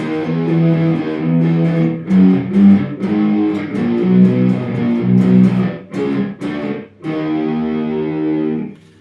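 Overdriven electric guitar plays the altered ending of a song, a string of thick distorted chord phrases with brief gaps, loud and up close, unaccompanied.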